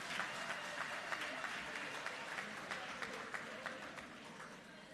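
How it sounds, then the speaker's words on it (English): Warm applause from mourners at a memorial gathering, many hands clapping in a steady, fairly soft wash with a few sharper individual claps standing out, and no talking over it. "please give your director of proceedings a warm round of applause"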